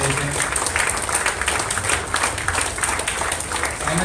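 Audience at a GDG BootCamp tech event breaking into a big, sustained round of applause, dense clapping filling the room evenly throughout.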